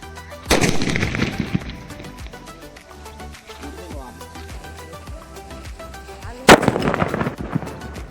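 Firecracker bombs are set off on a metal lock to try to break it open. Two loud, sharp blasts land several seconds apart, each followed by a ringing decay, with rhythmic background music running underneath.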